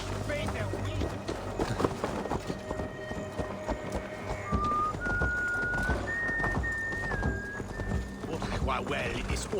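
Horse galloping in Assassin's Creed Valhalla, rapid clip-clop hoofbeats running steadily beneath someone talking, with game music and a whistling tone layered over.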